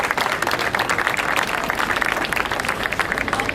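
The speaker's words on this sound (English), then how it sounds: "Let's give him a round of applause." An audience at a foundation fundraiser gives a steady round of applause, dense overlapping claps at moderate level continuing unbroken from start to end.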